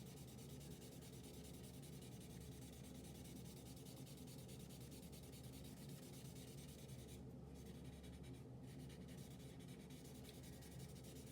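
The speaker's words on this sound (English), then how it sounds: "I'm gonna continue to turn my blending stump here" Blending stump and ebony pencil rubbing over drawing paper, a faint, continuous soft scratching and scrubbing texture with a couple of brief pauses near the end; no talking.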